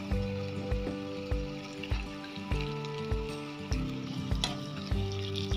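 Green chillies and garlic paste frying in a pan, a constant crackling sizzle with rhythmic stirring scrapes and clinks repeating about every half second, close and steady, no talk.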